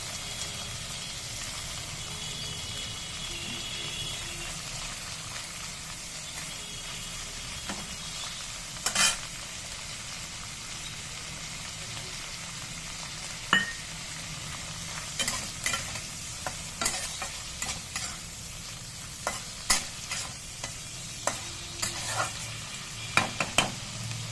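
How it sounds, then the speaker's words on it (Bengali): Shrimp frying in a pan with a continuous hiss of sizzling oil, joined later by scattered scrapes and clicks of stirring. "চিংড়ি মাছ যদিও খুব একটা ভালো করে ভাজতে লাগে না"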